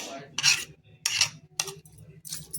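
Metal spoon scooping and scraping tamarind seeds into a steel mixer jar, four short bright scrapes with brief pauses between them, close and clear with no talking.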